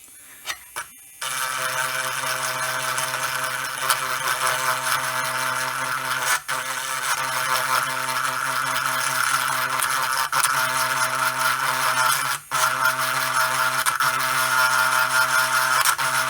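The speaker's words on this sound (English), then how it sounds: "I might use my little grinding pen here" A small rotary grinding pen whirs steadily while cleaning corroded battery terminals on a CGL Amidar arcade board. The high whine runs almost unbroken for about sixteen seconds, close up, with two brief dips, and no one speaks.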